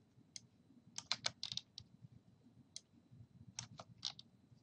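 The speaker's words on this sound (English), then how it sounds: "I'm just going to highlight all those extra spaces and hit the tab key" Computer keyboard keys pressed in a quick series of sharp clicks, including the tab key, while formatting a Word 2010 document, close and fairly faint over a low background hum.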